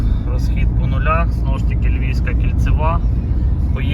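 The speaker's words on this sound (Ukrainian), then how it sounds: "пробуємо тепер їхати на максимальній швидкості по нулях" A Renault Megane 4 with a 1.5 dCi K9K diesel and automatic gearbox drives at highway speed. The cabin holds a constant low engine and road rumble while someone talks over it.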